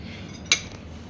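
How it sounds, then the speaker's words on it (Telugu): A spoon is lifted from a dish to taste freshly cooked food, making one short metallic clink against the dish amid quiet room tone. "ఓకే సో ఫైనల్ మనం స్పూన్ అయితే తీసుకుందాం."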